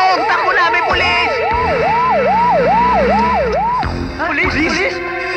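Police siren in a 1992 Filipino comedy film scene, a loud, steady wailing sweep repeating about every half second, then breaking off as voices and a second, higher siren pattern take over near the end.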